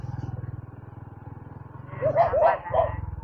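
A motorcycle engine putters along a rural road, then a dog lets out three or four quick, sharp barks nearby.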